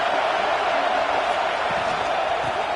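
A packed stadium crowd at a Clemson college football game keeps up a dense, steady roar of noise early in the game, with no sharp bursts of cheering.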